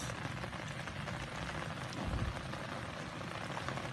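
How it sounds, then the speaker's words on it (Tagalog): Heavy rain pours steadily throughout at a fishing spot in Kalumpit, Bulacan, a dense broadband hiss of drops drumming on a surface, with a brief low rumble midway. "Ayan po, lakas na ng ulan."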